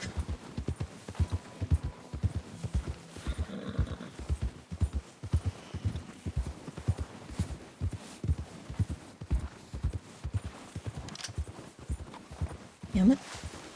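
A horse walks at a steady clip-clop in Red Dead Redemption 2, with its hooves beating a close, regular rhythm throughout. Near the end it gives a brief snort or whinny.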